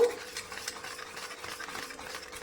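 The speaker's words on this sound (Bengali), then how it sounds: "দশ মিনিট পর আমি ঢাকনাটা খুলে নিলাম আবারও একটু নাড়াচাড়া করে নেব" Cream being stirred in a pot after simmering under a lid, a soft continuous scraping and swishing of the spoon at close range with a faint bubbling underneath.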